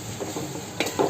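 Raw onion, green chili and garlic hit hot oil while a Chittagong-style loitta fish dish cooks, giving a steady close sizzle with a couple of louder stirring bursts near the end.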